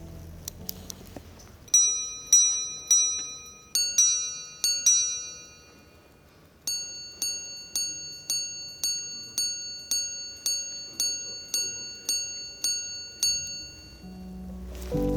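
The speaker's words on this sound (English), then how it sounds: "the actual striking sound of the minute repeater is so good" An L.Leroy minute repeater watch strikes the time with clear, ringing chime notes: a few lower tones first, then a quick run of paired high dings, each decaying gently, close up and alone.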